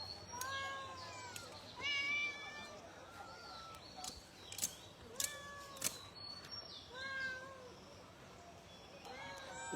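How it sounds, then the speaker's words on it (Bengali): A domestic cat meows several times at close range, with drawn-out, rising and falling calls and a few sharp clicks between them, heard in a home where fish is being cut. "এই যে বিড়াল।"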